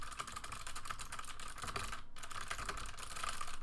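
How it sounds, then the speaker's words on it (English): Rapid, uneven clicking of a loud mechanical computer keyboard being typed on, close and continuous, with one brief pause midway before the keystrokes resume. "It's a mechanical keyboard, so it's very loud. So all you hear when I'm typing is,"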